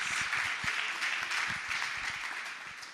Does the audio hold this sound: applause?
yes